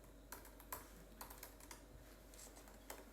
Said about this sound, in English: so let's type in Annabelle on tour.